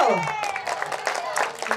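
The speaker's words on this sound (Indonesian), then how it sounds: "Tepuk tangan dong untuk Perindo" Crowd of residents clapping for Perindo at an outdoor community health exercise event in Blitar, a brisk burst of applause with a ringing tone fading at the start and a voice briefly over it.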